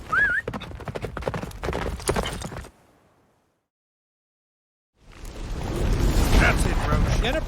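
Roach the horse galloping in The Witcher 3 through a blizzard, a steady rush of hoofbeats with other game sounds, cutting to silence partway before a loud stretch of action resumes.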